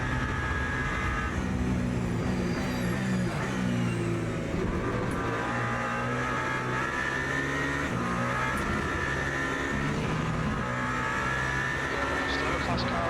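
Race cars in the Le Mans Ultimate video game roar steadily at close range, a continuous engine drone with faint passing swells, while someone talks over it.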